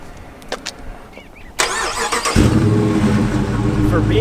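A stock 5.7 liter HEMI V8 in a 2020 Dodge Challenger R/T is started by remote, opening with clicks and a starter whir before catching into a loud, deep rumbling idle, heard close and alone.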